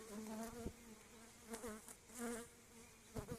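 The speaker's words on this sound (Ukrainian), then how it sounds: "Ого, і тут такі злі бджоли." Bees buzzing steadily around a hive, with individual insects droning past the listener at varying pitch; outdoors and no one speaking.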